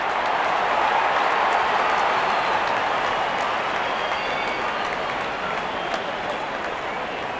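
Steady roar of a stadium crowd in a cricket video game, broad and continuous for the whole stretch, loud and unbroken with no distinct voices standing out.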